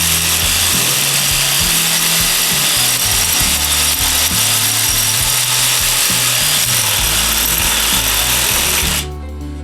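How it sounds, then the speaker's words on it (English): Clear ice block being cut by hand with a saw, a loud, continuous rasping rhythm of back-and-forth strokes close up, stopping abruptly near the end. "Carving ice the way only a real man would."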